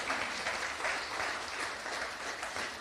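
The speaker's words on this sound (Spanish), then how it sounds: "Dele ese fuerte aplauso al Señor." A church congregation claps loudly and steadily in a fast, continuous ovation during an anniversary service, filling the room with dense applause and no clear talking.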